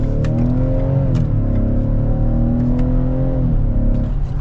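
A 2022 Ford Explorer Timberline with the 2.3-litre engine and 10-speed automatic accelerates hard, its loud steady engine drone rising in pitch close up, with wind and road roar underneath.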